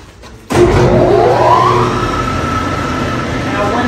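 An electric motor starts up abruptly and runs old water-powered machinery in a 150-year-old foundry, with a loud rumbling drone and a whine that rises in pitch and then holds steady.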